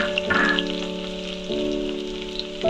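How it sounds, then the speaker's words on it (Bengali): Chopped onions hiss and sizzle in hot white oil in a kadai, a loud initial burst settling into a steady close frying crackle with a faint tonal hum beneath. "এবার আমি কুচনো পেঁয়াজ দিয়ে নেব আমি এটাতে বেরেস্তা বানাবো"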